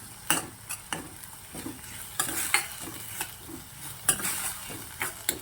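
Green chillies cook in a hot pan with salt and turmeric, giving a low, steady sizzle broken by repeated sharp clatters of a spoon stirring against the metal.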